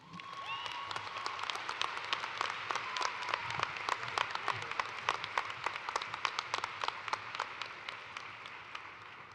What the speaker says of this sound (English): One more round of applause for all of our graduate students.